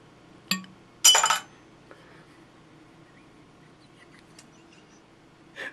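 A metal bottle cap, popped off a Troegs Perpetual IPA with a 50 cal bottle opener, lands in a small glass shot glass: a sharp single clink, then a brighter rattling clatter, and a faint tick near the end in a quiet room.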